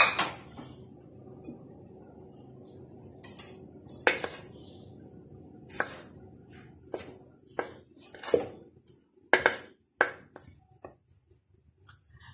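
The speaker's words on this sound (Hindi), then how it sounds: "इसमें हमने जो स्ट्रॉबेरीज चॉप करके रखी थी इसको इसमें फोल्ड कर लेंगे" Chopped strawberries being folded into flour in a mixing bowl for oven-free strawberry muffins, heard as a series of sharp spoon-and-bowl clinks and scrapes at irregular intervals, close and fairly loud over a quiet background.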